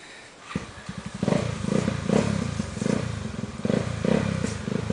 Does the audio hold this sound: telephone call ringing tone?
no